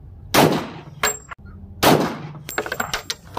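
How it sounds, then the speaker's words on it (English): Two sharp, loud .40 caliber Glock pistol shots are fired at a freshly laid 8-inch compressed earth block wall, each a hard crack followed by a short ringing decay, with faint clatter and movement in between. "So I'm going to do two shots. This is with the 40, with the, Glock 40."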